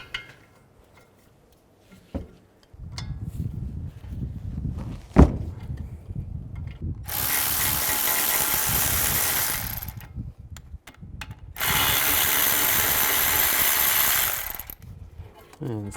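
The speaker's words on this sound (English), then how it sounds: "I'm going to use an 18mm socket and remove this brake caliper bracket. Loosen these bolts up." Brake caliper bracket bolts on a 2011-2015 Chevy Cruze are loosened with an 18mm socket, first some clanks and ratcheting, then two loud sustained bursts of a power tool spinning, close by.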